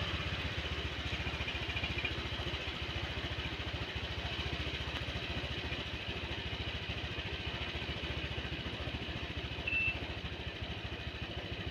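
A Honda Vario 125 scooter engine idles steadily at about 1400 to 1500 RPM during a throttle-position adjustment, a faint, even, rapid putter with no voices.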